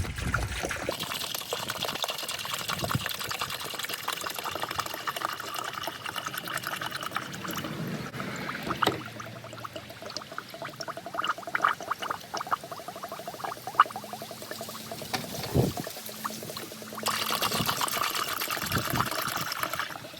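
Coolant pours steadily into a car radiator, a continuous gurgling trickle with occasional glugs and soft clanks, fairly close.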